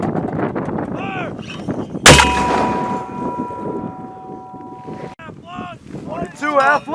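US Army M240 and M249 machine guns fire outdoors, one heavy blast and its ringing echo standing out among bursts of shots, with soldiers shouting commands and wind buffeting the microphone throughout.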